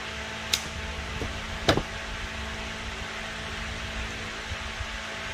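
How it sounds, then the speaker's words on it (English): A mechanical fan runs steadily in a hot garage where a 1960 Chevy Bel Air is being worked on, giving a constant whooshing hum with a couple of brief sharp clinks over it. "If you're hearing that fan in the background, trust me, it's hot."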